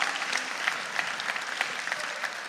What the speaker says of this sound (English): So can we give a big clap for them?